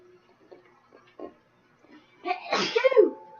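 A single loud sneeze near the end, preceded by a few soft shuffles and small sounds in an otherwise quiet room.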